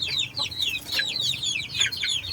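Chickens on a chicken farm, including tall black hens, cluck and chatter close by in a busy, overlapping stream of short calls.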